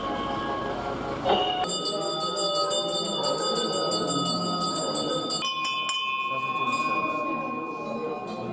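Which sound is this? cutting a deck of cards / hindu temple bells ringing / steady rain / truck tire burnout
hindu temple bells ringing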